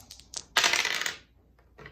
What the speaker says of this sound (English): Let's roll these dice.